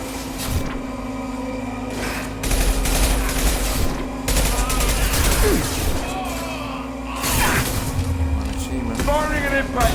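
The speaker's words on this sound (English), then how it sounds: "Firing an impact shot!" Impact shot gunfire from Mass Effect 2 Legendary Edition, a run of sharp repeated weapon blasts and mechanical clatter over a steady hum, with people talking throughout.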